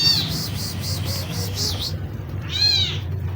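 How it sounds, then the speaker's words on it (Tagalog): A small kitten, one of several rescued strays, gives a run of repeated high meows, then a pause and one more louder, drawn-out meow, close by over a low steady background hum. "Yung maliit na pusa"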